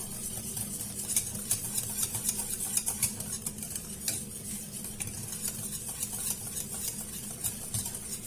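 Milk chocolate and sweetened dessert cream being mixed in a bowl: a steady scraping, clinking stir of a utensil against the bowl, with repeated light taps, close and continuous without talk.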